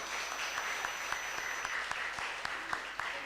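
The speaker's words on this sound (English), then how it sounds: "we have to give the big applause to Pak Farid." An audience applauds a lecturer after a talk on international criminal law, a soft, steady clapping from a small to mid-sized room with a few sharper individual claps standing out. A faint high tone hangs in the background.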